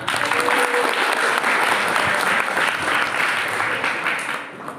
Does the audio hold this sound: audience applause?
yes